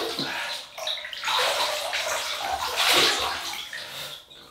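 Water splashing and sloshing at a basin as the face is wetted for a classic wet shave, a steady close run of splashes and trickles lasting several seconds with no talk.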